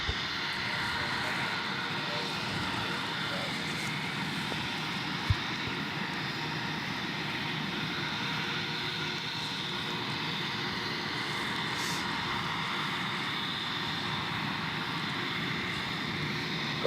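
A Jetstar Boeing 737 lands at Gold Coast Airport in heavy rain, its engines a steady, distant roar over a constant wash of rainfall, with a faint voice in the background.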